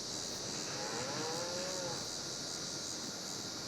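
Cattle in a farming video game give one drawn-out moo partway through, heard alone over a steady bed of broadband game ambience with no talking.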